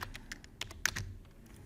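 Typing on a computer keyboard during QGIS work, a quick irregular run of crisp close key clicks with brief pauses, heard alone.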